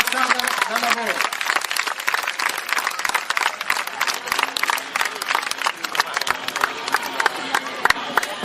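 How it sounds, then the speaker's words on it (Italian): Crowd at a Sardinian horse festival in Oristano clapping and cheering, sharp individual claps crackling up close over a loud continuous roar of voices and shouts. "Un applauso all'associazione di Montasarda dal lavoro."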